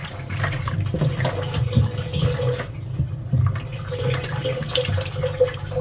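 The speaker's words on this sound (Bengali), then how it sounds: "আর পুরকলটা ধুয়ে নিতেছি।" Peeled potatoes, onions, bottle gourd and pointed gourd are washed in a village kitchen under steady running water that splashes continuously at close range, with no talk.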